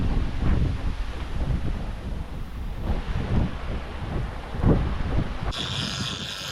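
Wind buffets a sailing boat approaching Sardinia, producing steady low rumbling gusts against the microphone with occasional stronger surges and faint water noise beneath.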